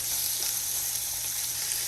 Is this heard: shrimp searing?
yes